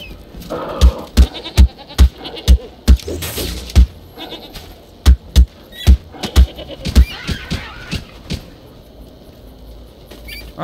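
Goats bleating in the video game Falcon Age, loud sharp calls repeating in quick succession, roughly a dozen short bursts up close with brief pauses between them.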